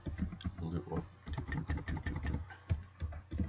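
Rapid, uneven keystrokes on a computer keyboard while playing the Click Space Game, tapping close and fairly loud in short bursts with brief pauses, and a low engine-like hum underneath.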